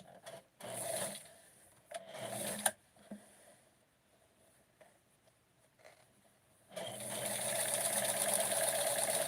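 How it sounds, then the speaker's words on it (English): A sewing machine hemming doll-sized pants runs in short bursts, stopping and starting, then stitches steadily at speed for the last few seconds. "I'm also going to do the hem with the sewing machine"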